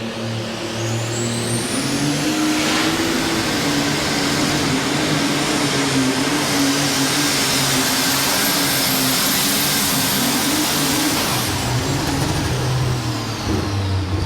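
Alcohol super stock pulling tractor's engine roaring at the 2003 NFMS event in Louisville, Kentucky, a loud, sustained high-revving howl with a rising whine, holding steady for the whole pull.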